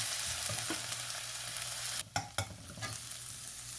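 Chopped onion with ginger garlic paste sautés in a pan with a continuous close sizzle and frying hiss, broken by a few brief stirring scrapes and clatters, no voices.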